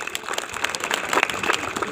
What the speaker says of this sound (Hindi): तो अतिथिगण के लिए तालियां दो।